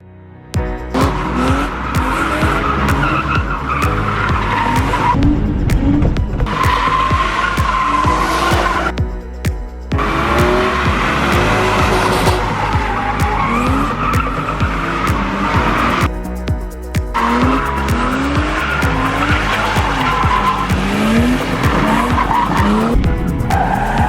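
Tires skid and squeal as a car drifts on a track at Santa Pod Raceway in England, engine revving hard and rising and falling through repeated slides, loud and close with no talk, and only brief dips between the runs.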